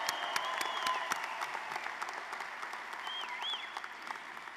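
A graduation commencement audience for the 2023 class claps steadily in a large hall, dense sustained applause at moderate loudness with a few brief whistles rising above it.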